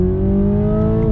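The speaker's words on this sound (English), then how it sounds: "I have it in manual shift mode, and we're gonna do some on throttle action" A 2021 Toyota Supra 2.0 in manual shift mode pulls on throttle, its engine giving a loud, steady, close drone with a slight rise in pitch and no talk over it.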